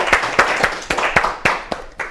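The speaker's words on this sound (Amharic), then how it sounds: "አጨብጭቡላት በደንብ።" Children clap for a girl contestant on an Ethiopian children's quiz show. The applause comes as a ragged run of sharp hand claps, roughly two or three a second, fairly close and carrying no talk.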